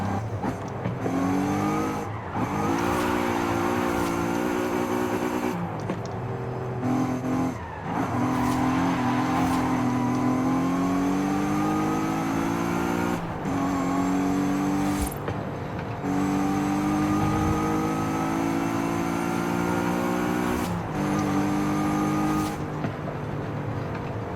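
A Volkswagen Golf R32 engine revs hard through gear changes while driving fast, rising and falling throttle blips with strong harmonic engine tones, near and loud, broken by brief gaps and occasional tyre noise.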